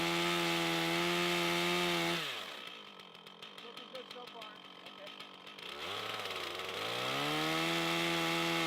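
A chainsaw cuts along the side of a log to trim it, its engine bogging into the wood for a few seconds between stretches of idling.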